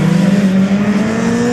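A race car engine at a slalom event, a loud, steady, close engine drone with a strong low tone that rises slightly in pitch, heard alone.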